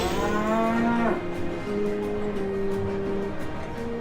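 A cow moos in the Sam & Max The Devil's Playhouse video game: one long, loud, drawn-out bellow with falling pitch, followed by quieter lowing tones over background music.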